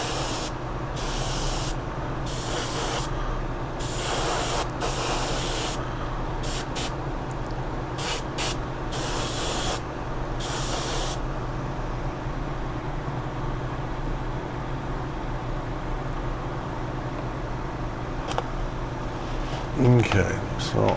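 A spray can hisses dull coat onto a plastic Charger model car body in several close, loud bursts of varying length, stopping about halfway through, while a voice talks over a constant background hum.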